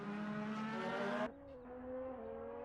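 A DTM race car engine at Zandvoort screams at high revs, then abruptly cuts off as the driver lifts and shifts, followed by a quieter rising drone.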